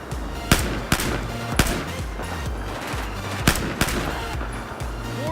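Video game gunfire rings out in a dense, continuous battle, with several sharp, loud shot bursts standing out over a steady rumble of combat noise and occasional voices.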